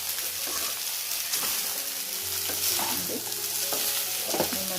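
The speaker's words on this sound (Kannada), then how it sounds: "ಈಗ ಚೆನ್ನಾಗಿ ಫ್ರೈ ಮಾಡ್ಕೋಬೇಕು, ಐ ಫ್ಲೇಮಲ್ಲಿ ಇಟ್ಬಿಟ್ಟು" Paneer fried rice frying on a high flame, restaurant style, with a steady loud sizzle and the scrape and clatter of stirring throughout.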